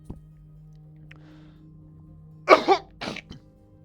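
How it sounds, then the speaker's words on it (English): Two or three sharp coughs close to the microphone after a quiet stretch of near-silence with a faint steady hum, followed by a brief throat-clearing burst. "Sorry. Coughing."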